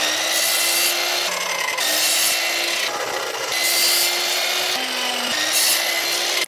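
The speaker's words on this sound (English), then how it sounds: "I quickly sanded away the saw marks." Wood being sanded to remove saw marks while building a bookholder part: close, loud, raspy strokes repeat in an even back-and-forth rhythm with no speech.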